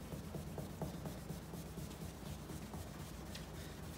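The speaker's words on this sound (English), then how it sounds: "just simply gonna buff this out" A cloth rag, already used and greasy, rubbed over a plastic car headlight to work polish in: steady, continuous soft scrubbing strokes with a faint rhythmic swish, close and moderately quiet, with no talking.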